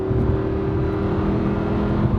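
A Lamborghini Huracan LP580-2 with a dual-clutch automatic gearbox, its engine accelerating hard in a steady, loud, continuous drone heard from inside the car, with no talk over it.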